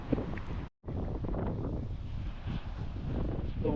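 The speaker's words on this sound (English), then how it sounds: "Super windy." Strong gusty wind at a surf spot buffets the microphone in a continuous low roar, briefly cutting out for a moment before the rumble returns.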